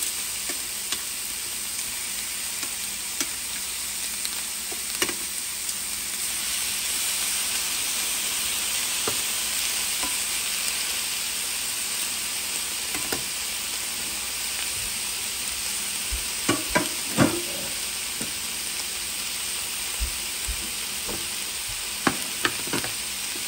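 Beef browning in a hot pan gives off a loud, steady hissing sizzle that fills the whole stretch, broken late on by a few sharp clicks and scrapes of a utensil; no one speaks.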